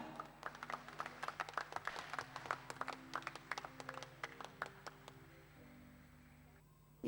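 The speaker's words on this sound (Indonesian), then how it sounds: "mari kita beri aplaus yang meriah" Applause for an award-winning production team at a university ceremony, a steady patter of many hands clapping that thins out and fades toward the end, heard from some distance, with no talking over it.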